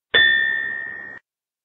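A railway block instrument bell gives a single bright electric ding that rings steadily for about a second and then cuts off sharply, loud and close, with no voices.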